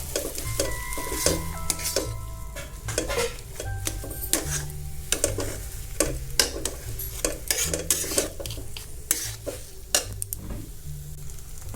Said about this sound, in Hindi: देखिए अभी ये अच्छी तरीके से भून गया है